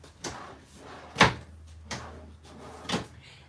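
Drawers in an RV kitchen are opened and closed, giving four separate wooden slides and knocks spaced about a second apart, with a soft hum underneath.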